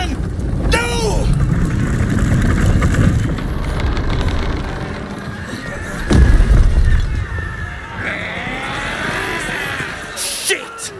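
A deep cannon blast in Baldur's Gate 3 booms mid-clip amid rumbling battle noise and shouting voices, loud and close.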